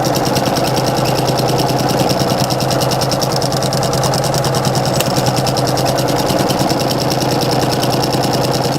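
A sewing machine back stitches over ribbons at a quarter-inch seam allowance on a baby comfort blanket, a loud, even mechanical hum with a rapid regular needle pulse running without pause.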